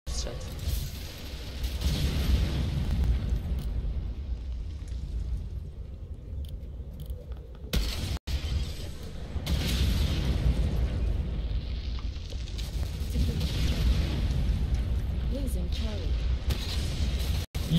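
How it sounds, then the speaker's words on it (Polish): Grenade blasts in the shooter game Ghost Recon Phantoms, broad rumbling booms that swell and fade over several seconds, with a player talking over the din. "I one inne dotkną ziemi, to zaraz wybuchają, nie?"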